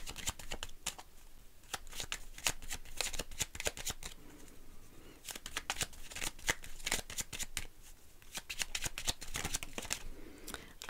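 Petit Lenormand deck being shuffled by hand in close, dense bursts of riffling card flicks, with short pauses between rounds and no voice over it.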